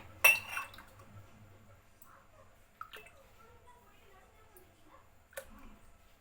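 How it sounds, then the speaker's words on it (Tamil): An agar agar and soya mixture is poured into a glass, with a sharp clink at the start, then soft drips and light glassy taps spaced out over a quiet background. "இந்த கிளாஸில் இப்போ நம்ம ஊற்றுறோம்."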